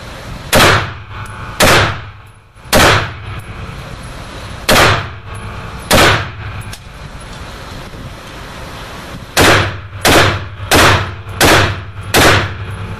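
A Stag Arms AR rifle fired outdoors with a bipod: about eleven loud sharp shots, first spaced roughly a second apart, then a quicker run of five near the end, each with a short echoing tail over wind.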